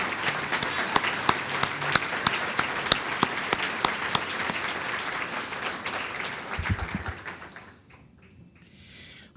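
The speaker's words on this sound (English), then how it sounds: "Could you all join me in a round of applause?" An audience applauds honorees at a youth champion awards ceremony, a steady full round of clapping with a few sharp individual claps standing out. It fades out into near quiet over the final seconds.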